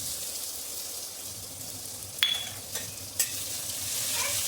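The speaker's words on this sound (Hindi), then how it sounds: "थोड़ा थोड़ा सा फ्राई कर लेंगे लहसुन को।" Garlic frying in oil with cumin seeds and dried red chilies, a steady low sizzle with a few sharp clinks of a stirring spoon against the pan, close and fairly quiet with no talking.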